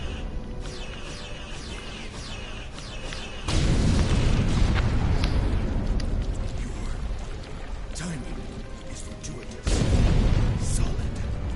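Insect enemies in the Star Trek Online video game fire exploding green projectiles, heard as repeated booming bursts and rumbling blasts, with a player talking over the game audio.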